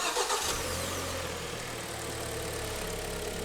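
Hyundai ix35 with a G4KD engine cranking and catching within half a second, then settling into a steady, close idle with a low hum.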